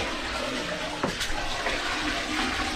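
Bucket of water poured into a newly installed toilet in a country cottage, a steady broadband rush and gurgle running through the whole stretch at moderate, close level with no talk.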